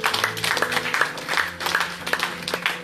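A church congregation at a Paris service applauding, brisk continuous clapping from many hands mixed with music and voices, fairly loud and close throughout.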